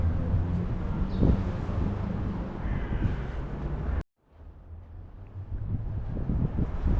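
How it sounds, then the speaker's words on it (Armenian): Wind blows outdoors through residential courtyards along a city street, rumbling steadily against the microphone, briefly cutting out, then returning. "Ինչ լավ է այս քամին"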